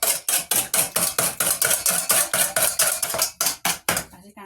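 Cake batter whisked briskly in a bowl until foamy, a fast, steady series of rhythmic scraping clinks from the whisk against the bowl, close and clear with no talking.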